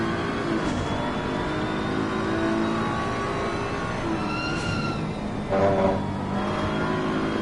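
Race car engine in a racing video game, a steady droning whine from the exhaust with faint gear-change sweeps, moderately loud and continuous, no voices.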